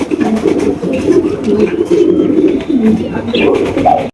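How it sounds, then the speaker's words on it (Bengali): Several large king pigeons coo loudly and continuously nearby, deep rolling calls overlapping one another with little pause. "এখানে কিন্তু রয়েছে বিশাল সাইজে একজোড়া কিং কবুতর"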